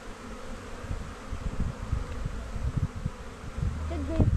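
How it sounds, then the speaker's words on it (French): A dense, steady buzzing of a close cluster of honeybees at an apiary, a continuous low drone with small fluctuations throughout. "Un pâté d'abeilles."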